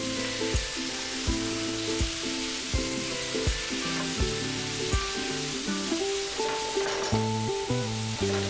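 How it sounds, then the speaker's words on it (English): Marinated beef frying with cubed bell peppers gives a soft, steady sizzle under louder background music with rhythmic notes. "Then add the marinated beef and fry it for about 2 to 3 minutes"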